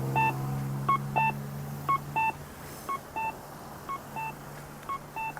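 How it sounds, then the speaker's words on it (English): Crosswalk pedestrian signal at the corner of College and Albert in downtown Regina in January, sending out clear, evenly spaced electronic beeps in pairs and triplets over a steady low traffic hum, with no talking. "The beeping is for those going north and south, not those of us crossing east to west."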